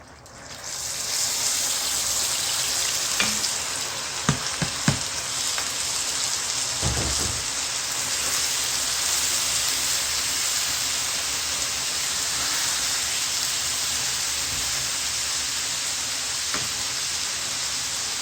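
Rice poured into melted sugar for sweet zarda rice, giving a steady broadband hiss of sizzling that holds for the whole stretch, with a few brief knocks early on and no talk.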